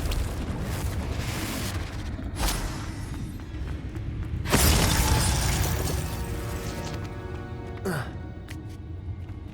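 A Confringo blasting spell in Hogwarts Legacy erupts as a heavy booming burst with shattering debris midway, set within a continuous rumbling game soundscape of effects and ambience.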